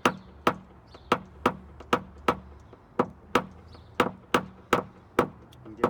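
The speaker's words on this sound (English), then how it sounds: "Give it some nice severe taps." Sharp tapping of a paintless dent repair tool on the body panel of a Jeep Renegade, about a dozen hard, evenly spaced knocks in a steady rhythm, close and clear with no talking.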